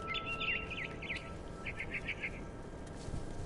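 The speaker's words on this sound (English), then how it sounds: "Then I heard chirping outside my window. It was a barn swallow going back to her nest." A barn swallow chirps in a video game, with two short bursts of bright, rapid tweets over a steady low background hum and no talking.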